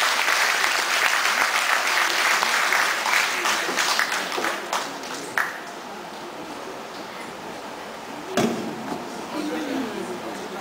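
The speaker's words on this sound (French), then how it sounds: "on peut l'applaudir très chaleureusement" A crowd at the Petit Bourg town festival claps warmly for a deputy mayor. The dense, loud applause thins out midway into scattered claps and low crowd murmur, with a sharp clap or knock near the end.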